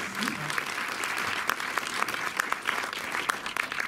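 Audience applause rolls on steadily, a continuous wash of many hands clapping at moderate distance, with a brief voice at the start.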